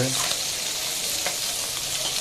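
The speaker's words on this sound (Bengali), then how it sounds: "এই যে পুঁটি মাছ ভাজা হচ্ছে" Puti fish frying in a pan, a bright continuous crackling sizzle heard up close, with a few faint stirring sounds and no talking.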